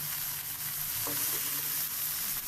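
Chopped winter vegetables frying in a pan for Chinese soup noodles, a dense continuous sizzle with a faint stir partway through, close and steady throughout.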